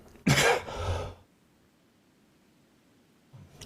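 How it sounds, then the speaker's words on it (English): A single throaty cough or throat-clear, loud and close, followed by near silence. "sorry, I keep coughing here"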